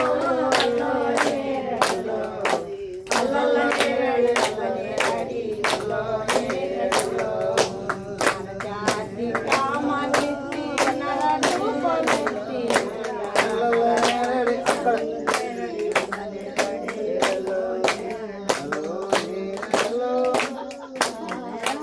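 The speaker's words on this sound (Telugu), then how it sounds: "చప్పట్లు కొట్టాలి." A church congregation claps hands in a fast steady rhythm to a worship song, with sharp close claps running throughout under singing voices.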